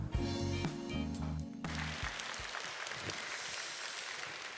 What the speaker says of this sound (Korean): 나오실 때 박수로 큰 환영 부탁드립니다